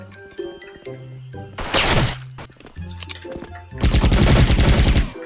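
Sniper rifle fire in the online shooter Special Force comes as two loud, crackling bursts of shots separated by quieter game beeps and tones, the second burst longer and more sustained.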